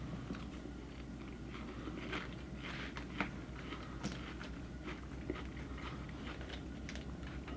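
Someone chews a crunchy salad dressed with sesame vinaigrette, giving close, irregular crunching bites over a steady low background hum.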